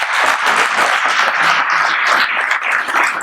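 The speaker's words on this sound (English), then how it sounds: "Mike and Sandy deserve a round of applause" Applause fills a wrestling banquet room, a dense steady round of clapping from a crowd that holds for a few seconds.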